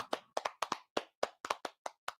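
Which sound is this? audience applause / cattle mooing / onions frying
audience applause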